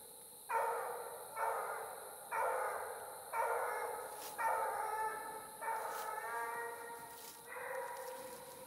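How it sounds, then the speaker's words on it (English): A young coonhound puppy on a coon hunt barks and whimpers in a run of about eight drawn-out, whiny yelps at a steady pace, close and fairly loud against a quiet background. "This little annoying little pup."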